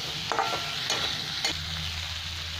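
Desi tomatoes are sautéed in a pan as the base of a Bengali fish curry with potato and cauliflower, a low sizzle broken by three quick scraping stirs close by, then a quieter, steadier fry.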